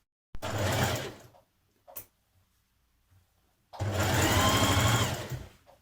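Sewing machine stitching the side seams of a New Look 6210 jersey dress, heard in two close bursts, a short run and then a longer one, with a brief clunk and quiet gap between.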